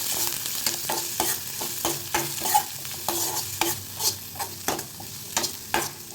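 Onions sautéed in a pan with mustard seeds, curry leaves and dried red chillies for an avarakkai stir-fry, a constant sizzle under repeated scraping spoon strokes in an uneven rhythm, close up and without talk.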